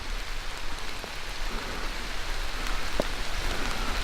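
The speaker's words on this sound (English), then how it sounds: "Starting to rain." Steady rain hisses and patters on surfaces, an even wash of sound with a few louder drops, no voices.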